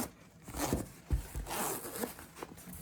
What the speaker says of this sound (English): I just zips from the top.